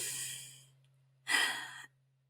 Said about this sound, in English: Take a big, deep breath with me